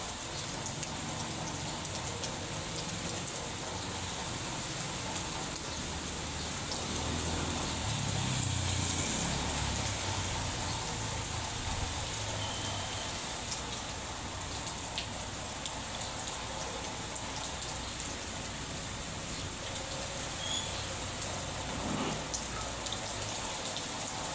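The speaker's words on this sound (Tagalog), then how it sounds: "Lakas pa talaga ang ulan." Heavy storm rain pours steadily for the whole stretch, a dense even hiss of drops on surfaces, with a few closer splats and a faint low swell partway through.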